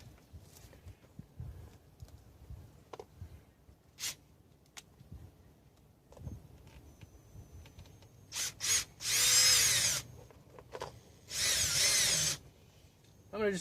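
Power drill driving screws through a Ring doorbell back plate into house siding outdoors, two loud sustained whirring bursts near the end after quieter handling knocks and shuffling.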